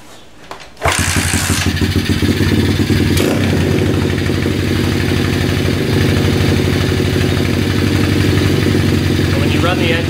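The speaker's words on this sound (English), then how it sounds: "starting up the engine, letting it run for about 5 minutes" A dirt bike engine starts with a burst, then idles loudly and steadily close by, a rapid, even, clattering putter.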